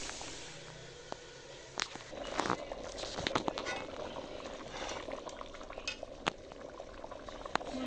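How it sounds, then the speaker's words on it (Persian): Water bubbling at a rolling boil in a pot of Persian herb noodle soup (ash reshteh) with softening greens, a steady close simmer broken by scattered pops and bursts. "آب اضافه کردیم تا جوش بخوره تا سبزی کمی نرم شود"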